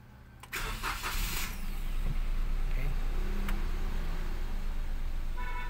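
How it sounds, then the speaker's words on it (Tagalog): A first-generation Toyota Wigo engine cranks briefly, then catches and settles into a steady, close idle that runs on without talk. "Karon, ato ang ipaandar ang engine."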